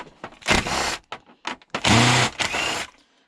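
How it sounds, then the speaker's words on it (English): An impact driver backing screws out of scrap aluminium e-waste comes in several short, loud, rattling bursts separated by brief silences, close up. "The screws are trying their best to cause an issue here, but luckily the impact is getting them out"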